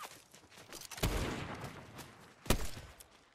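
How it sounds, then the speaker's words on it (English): Gunfire in the Fortnite battle game: two distinct sharp shots roughly a second and a half apart, fairly distant and moderate in loudness, over quiet background noise. "Yeah, they're shooting at me."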